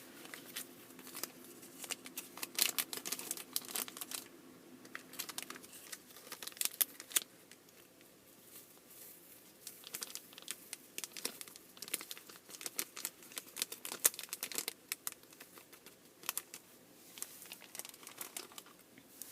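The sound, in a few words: plastic bag crinkling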